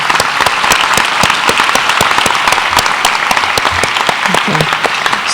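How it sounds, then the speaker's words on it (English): Audience applause at a medical school white coat ceremony, a dense steady burst of many hands clapping loudly and evenly throughout, with faint voices mixed in toward the end. "So let's give them a round of applause to thank them."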